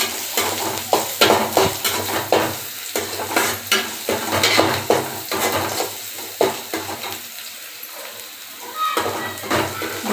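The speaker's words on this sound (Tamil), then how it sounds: "நல்லா பச்சை வாசனை போகிற அளவுக்கு நல்லா கிளறி விட்டுக்கலாம்." Garlic and onions fry in a pan for a tomato thokku while a spoon stirs and scrapes, with steady sizzling and repeated sharp clinks of utensil on metal, close and fairly loud, with no talk.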